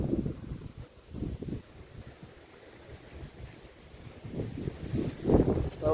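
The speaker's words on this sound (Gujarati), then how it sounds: "પવન અહીં તો બહુ થઈ ગયો છે." Strong wind gusting across an open rooftop during rainy weather, a rough low rumble of buffeting against the microphone that swells and fades in bursts, loudest near the end.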